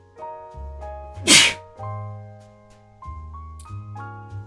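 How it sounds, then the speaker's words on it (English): A single sharp, loud sneeze bursts out over soft background music, brief and close by. "Excuse me, I sneezed."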